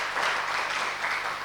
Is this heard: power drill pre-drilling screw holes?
no